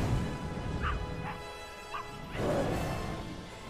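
A few short dog barks and yips from a LEGO Harry Potter video game, spaced a moment apart over steady game music and ambience, followed by a brighter burst of game sound effects.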